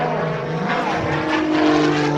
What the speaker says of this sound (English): Rolling the airplane around again.